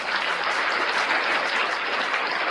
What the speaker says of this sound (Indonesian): Tepuk tangan untuk Yudas